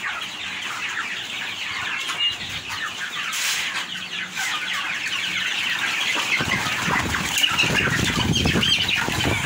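Chickens cluck and squawk amid a flurry of wing flapping, with busy poultry-yard chatter continuing steadily throughout.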